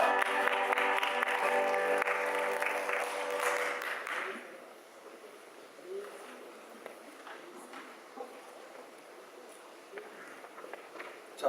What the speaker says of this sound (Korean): 다시 한번 격려하면서 힘찬 박수 환영합니다